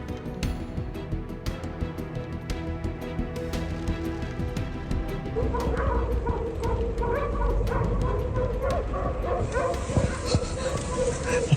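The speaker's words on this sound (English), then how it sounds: "Grizzlies usually react strongly to loud noises, so it's surprising to see this one stay calm despite the dog's nonstop barking." A dog barks nonstop at a grizzly bear outdoors, a steady run of sharp repeated barks and yips, moderately close, with a low rumbling background growing louder partway through.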